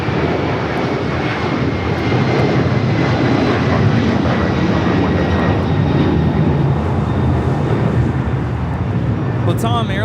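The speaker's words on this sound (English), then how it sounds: "2479 taking off to Lima, Peru on the 767-300ER." A Latam Airlines Boeing 767-300ER takes off from Los Angeles International Airport bound for Lima, Peru, its jet engines roaring in a loud, steady, broadband rumble that holds strong and continuous throughout.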